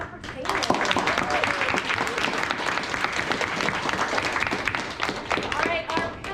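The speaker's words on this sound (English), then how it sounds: "one more round of applause for Caleb" Sustained audience applause from a live crowd at a play-reading share day, a dense, steady wash of many hands clapping at full strength for several seconds.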